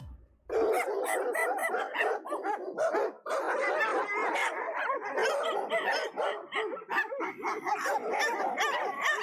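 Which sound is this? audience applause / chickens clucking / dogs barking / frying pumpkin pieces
dogs barking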